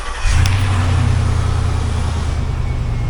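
A 2005 Hummer H2 with an LQ4 6.0L V8 cranks and fires up at a wrecking yard, then settles into a loud, steady, low rumbling idle close by.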